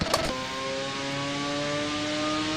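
A car engine in the No Hesi driving game holds a steady rev after a brief sharp onset, its tonal drone sustained loud and close with no talk.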